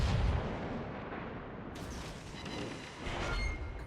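Heavy 15-inch naval guns of the battleship Queen Elizabeth fire in a World of Warships operation, giving a dense, sustained rumble of booming blasts that fills the whole stretch without any voices.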